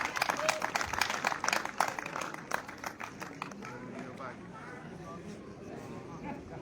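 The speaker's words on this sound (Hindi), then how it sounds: "सभी साथी जोरदार तालियां भाई" Village gathering crowd clapping loudly for a community association president and committee, dense rapid claps that taper into steady background hubbub with voices underneath.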